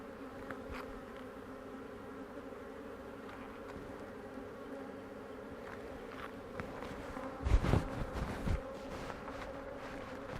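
Honey bees buzz continuously inside an opened hive in a dense, droning hum, with a brief burst of nearby bumping and handling noise partway through and no speech.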